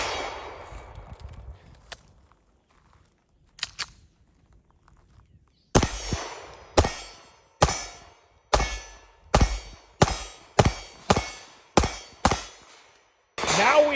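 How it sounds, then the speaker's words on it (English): A non-ported single-stack Dan Wesson Commander pistol fires ten quick, sharp shots in a steady rhythm, each loud crack ringing out briefly, after a quieter stretch of handling noise. "Just 10 quick shots."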